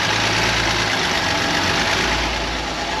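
A BMW M2 Competition engine idles steadily up close, a continuous low, slightly rough rumble with no talk over it.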